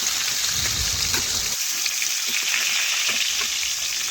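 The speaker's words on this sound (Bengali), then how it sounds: "দেখুন চাকা নেজা ও মাথাগুলো আমি একই সাথেই দিয়ে দিচ্ছি।" Fish pieces, tail and heads frying together in hot oil: a loud, continuous sizzle with a burst of bubbling spatter at first that settles into an even hiss, with light crackles.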